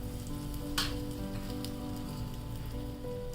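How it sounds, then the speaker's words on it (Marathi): Mustard seeds, asafoetida and urad dal crackle in hot oil in a kadhai for a tadka, a dense, steady sizzle with a brief sharper burst of popping near the start. "कढाईमध्ये तेल गरम करून घेतलेलं आहे. याच्यामध्ये मी मोहरी घालते, हिंग, थोडीशी उडदाची डाळ"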